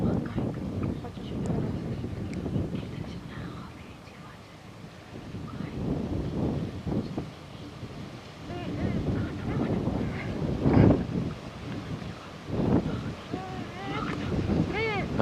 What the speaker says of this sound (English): Very windy at the moment.